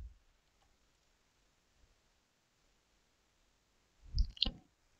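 A pair of mouse clicks sounds near the end, close and crisp, on Save Changes in Gmail settings, after a long stretch of near silence.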